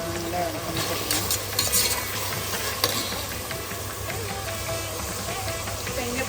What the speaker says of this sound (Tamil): இப்போ நான் வந்து முந்திரி பருப்பு போட்டுக்கிறேன்